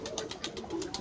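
Pigeons cooing close by in a hot summer setting, soft repeated coos with faint background bird chatter, no talking over them.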